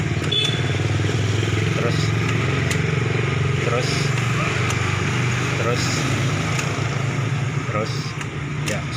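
A Yamaha X-Ride motorcycle with a sputtering engine fault runs steadily nearby, a continuous low engine drone with occasional clatter under talking.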